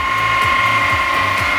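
A Bridgeport milling machine on power feed drives an end mill through Damascus steel, giving a steady high-pitched machining whine with a regular low rhythmic knocking, close and loud throughout.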